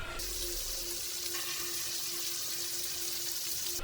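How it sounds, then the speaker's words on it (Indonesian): A water tap turns on by itself in a quiet, neglected ablution spot, giving a steady, loud rushing hiss of flowing water that runs unbroken throughout with no voices. "Saat Ina mengambil air wudhu, keran di depannya menyala sendiri."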